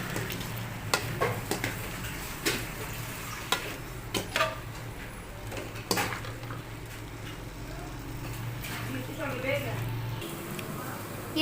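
Okra, potatoes and green chillies fry in a pan, a steady sizzle with intermittent stirring scrapes and clicks, close and moderately loud, with faint talk at times.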